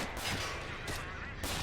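Mortar fire in the video game Men of War: Assault Squad 2 comes as a few muffled, booming blasts in quick succession over a dense rumble of battle noise.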